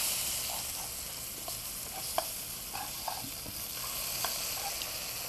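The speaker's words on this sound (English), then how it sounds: "I'm gonna set it right there while I saute off my potatoes and let them get golden brown too." Potatoes sauté in olive oil in a pan with a steady, soft sizzle, broken by scattered faint clicks and taps of stirring, heard up close with no talking.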